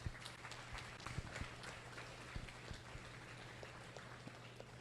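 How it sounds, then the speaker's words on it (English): Audience applause in the arena at a county 4-H show, faint and distant: a thin patter of scattered claps over a steady low hum. "give them a big round of applause."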